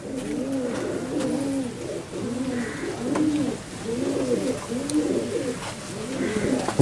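Golden and Nildumma pigeons coo close by in a repeating rhythmic pattern, about seven throaty rolling coos in steady succession over a soft background.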